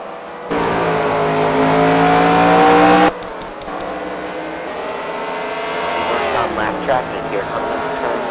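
Race cars of the CWRL Fight Night main event at The Freedom Factory drive through turns 3 and 4 in traffic, one engine loud and close with a sustained roar that cuts off abruptly, then several cars droning and revving further off.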